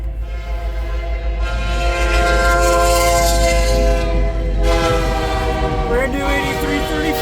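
CN 8335, a rebuilt SD75I locomotive heading train U763 northbound at Ladysmith, Wisconsin, sounds its horn in loud sustained blasts while passing close by, over a low rumbling engine and rail noise.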